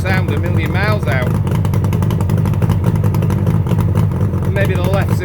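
Freshly rebuilt 1976 Suzuki GT750A motorcycle engine runs at a steady, loud, close idle with rhythmic rumbling and clatter from its carburetor-fed cylinders, while someone speaks briefly over it.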